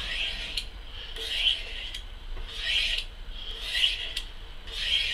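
Butcher's knife drawn in long heel-to-tip strokes along a sharpening steel after re-edging, light pressure; four evenly spaced rasping swipes, close and clear, with no talk.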